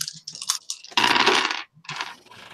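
A handful of dice rattle out of a dice bag and clatter across a tabletop during a role-playing game session, a bright continuous tumble, then a few scattered clicks.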